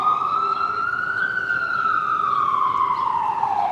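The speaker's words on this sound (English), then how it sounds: "let me let this ambulance go past here" A wailing siren glides slowly up and then back down, steady and fairly loud over low traffic rumble, as an ambulance passes close by.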